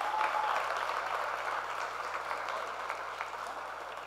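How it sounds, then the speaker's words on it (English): An audience applauds a real estate agent, Rick Brown, at a masterclass session in Orlando, the clapping steady and moderately loud from start to finish, with no talk over it. "Let's give a giant round of applause for Rick Brown."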